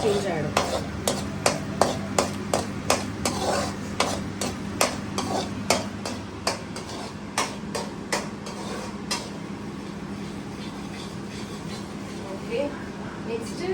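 Cornflour white sauce for cheesy pasta stirred in a pot over a low flame, a quick regular run of spoon taps and scrapes against the pan, close, with a faint hum beneath.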